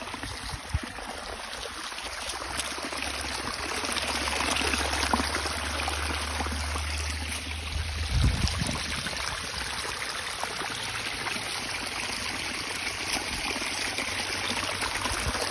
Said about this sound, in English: So here's the creek. It runs all the way up into those trees.